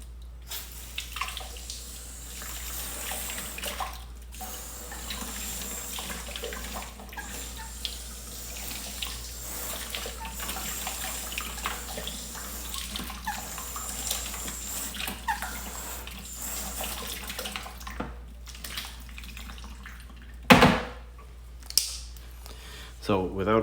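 Water sprays and rinses over a freshly ceramic-coated car for a steady, close stretch, a soft running wash broken by a few sharper splashes near the end, with occasional faint voices underneath.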